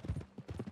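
Horse hooves clip-clop in a quick, steady rhythm as a horse moves along at pace in the video game Red Dead Redemption 2, fairly close and alone without talk over it.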